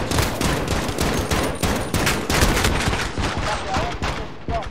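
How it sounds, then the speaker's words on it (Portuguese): An enemy sentry gun fires in Call of Duty: Modern Warfare, a sustained, loud burst of rapid automatic gunfire with dense, overlapping shots running throughout, alongside game sounds. "Inimigo no armazém. Arma de sentinela inimiga"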